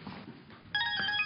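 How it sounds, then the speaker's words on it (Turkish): A telephone rings with a bright electronic ringtone that cuts in suddenly partway through and keeps trilling steadily over quiet room noise, with no talking. "telefonu çalıyor"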